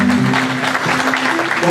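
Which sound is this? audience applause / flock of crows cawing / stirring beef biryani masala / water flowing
audience applause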